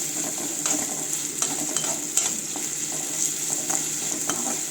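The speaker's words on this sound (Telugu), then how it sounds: "ఇది వేగడానికి ఒక 10 నిమిషాలు పడుతుందండి. సో బ్రౌన్ కలర్ రావాలి ఉల్లిపాయలన్నీ మొత్తం కలిపేసి." Onions browning in a pan for a chicken fry, a continuous bright sizzle with soft scraping and stirring clicks throughout, close and steady.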